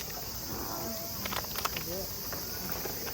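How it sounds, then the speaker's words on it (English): A steady, high-pitched cicada drone fills the background in Korea, faint and continuous, with a few soft rustles and distant sounds beneath it. "Maybe the cicadas will go away. No, they never do."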